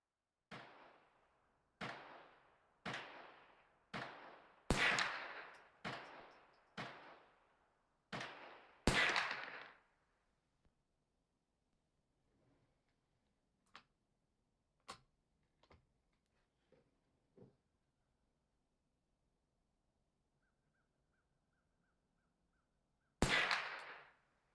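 A Ruger 10/22 rifle firing CCI Blazer ammunition: a quick run of about nine sharp cracks roughly a second apart, then a few faint distant pops and one final loud shot after a long quiet gap.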